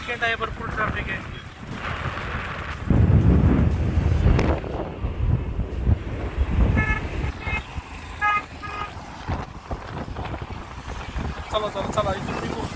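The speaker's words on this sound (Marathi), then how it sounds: "लय वारं सुटलंय, गार हवा लागायला लागली" Strong cold wind buffets the microphone on a Konkan coastal road stop, a loud rushing roar in heavy gusts, while traffic passes and horns toot nearby and people talk.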